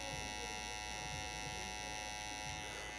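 Electric hair clipper buzzing steadily as it shaves short hair during a haircut, a continuous close hum with faint voices underneath.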